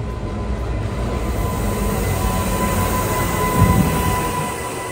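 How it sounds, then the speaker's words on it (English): The Glacier Express passenger train arriving at a station in Switzerland rumbles steadily nearby with a continuous low roar and faint metallic tones, no voices heard. "So we're waiting right now for the Glacier Express. It's coming here."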